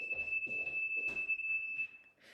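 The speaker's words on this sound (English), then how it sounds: "my smoke alarm's going off" A smoke alarm emits a continuous high-pitched electronic tone, steady and fairly faint, beneath several thuds and rustling indoor noises, cutting out near the end before another burst.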